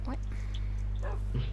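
Tamed dogs in the Minecraft survival game let out a few short barks and whimpers over a steady low hum, with brief bursts near the start, middle and end of the clip.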